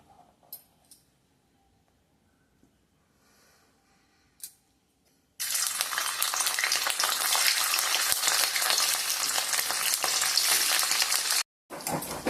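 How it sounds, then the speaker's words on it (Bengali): Paneer pieces hit hot white oil in a kadai and erupt into a loud, steady sizzle that runs for several seconds and then cuts off briefly, after a few soft clinks in a quiet opening. "এবার তেলটা ভালো করে গরম করে আমি পনিরগুলো ভেজে নিই।"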